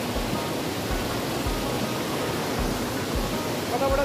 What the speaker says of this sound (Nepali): खोला चाहिँ बवाल छ